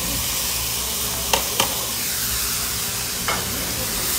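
Colored bell peppers and onion stir-frying in a pan for chicken with vegetables, a steady background sizzle broken by three brief scraping stirs of a utensil, close and moderately loud.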